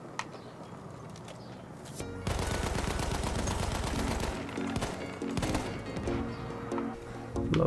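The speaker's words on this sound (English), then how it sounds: "Best gun in the game, this is." Rapid automatic gunfire from a weapon in Battlefield 1, loud sustained bursts after a quieter opening, with brief pauses and renewed firing toward the end.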